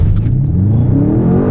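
A 2024 BMW M5 G90 hybrid sedan with 727 hp accelerating hard at full throttle, its engine droning loud and close with a steadily rising pitch as it climbs through the revs, no talk over it.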